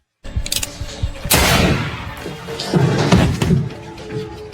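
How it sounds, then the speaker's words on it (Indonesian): Several sharp, loud pistol shots ring out over a few seconds in a film, with booming echoes and no talking. "Ana mengambil pistol dari pinggang PJ dan menembaknya sampai ia tewas di tempat."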